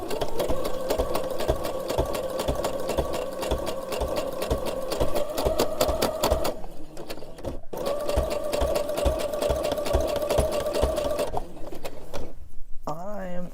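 A sewing machine stitches through a thick baby-clothes quilt in two long close runs, its motor humming steadily with a brief stop in between and a pause near the end.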